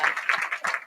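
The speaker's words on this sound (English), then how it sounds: "Let's clap on that." Audience applause after a talk at a Women's Entrepreneurship Day event, a short burst of steady clapping filling the room at moderate loudness.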